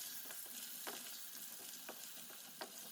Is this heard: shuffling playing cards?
no